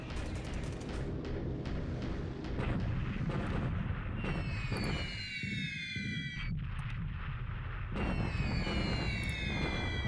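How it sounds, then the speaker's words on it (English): Bombing explosions in the War in the Pacific strategy game form dense, continuous booming rumble throughout, while repeated swooping whine layers of aircraft sweep across the middle and end. "Oh, now he's bombing Luchao."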